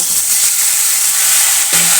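Steamed field peas tumble into a pan of browned frying potatoes, setting off a steady loud sizzle and hiss of oil with a fresh burst of crackling near the end, no voices.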